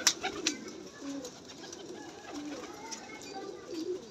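Pigeons coo softly at close range in repeated low, throaty calls, with a few faint chirps and rustles around them.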